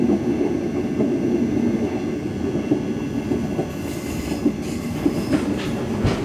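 Seen from the very last carriage, the Malaysian Jungle Train rolls along with a continuous low rumble and rattle, faint wheel clacks and airy rushing noise, without talking.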